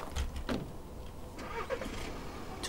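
A car engine starts in a video game: a short crank and catch settle into a low, fairly quiet idle.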